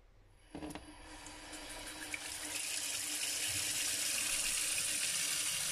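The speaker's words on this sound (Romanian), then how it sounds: "Aici are o fisură și iasă apă." Water sprays from a crack in an old sink faucet more than twenty years worn, a close hissing stream that starts with a click and swells into a steady, even rush.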